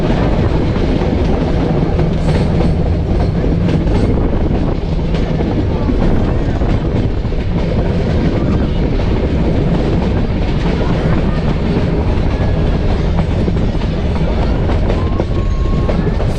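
A crowded passenger train runs between Junagadh and Sasan Gir, its loud, steady rumble and wheel clatter filling the carriage without a break, with wind buffeting the microphone.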